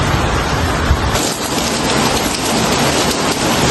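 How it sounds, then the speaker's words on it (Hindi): Very heavy rain pours steadily during a storm in Lahore, a loud, dense, unbroken hiss of rain on surfaces with low rumbling underneath and no talk. "बहुत तेज़ बारिश हो रही है"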